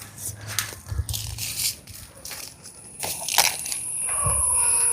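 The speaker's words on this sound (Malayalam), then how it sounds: "ചതുരപ്പയർ ആദ്യം പൊട്ടിക്കാം" Crisp snaps and crunches of winged beans being broken off the plant by hand, several separate cracks spaced irregularly, close and without talk.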